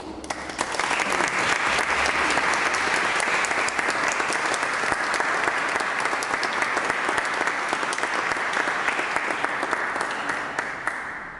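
Sustained applause for the teachers fills a hall at the closing concert of the Verbum Resonans 2019 courses, a steady, loud wash of many hands clapping that starts abruptly and holds for several seconds before easing slightly.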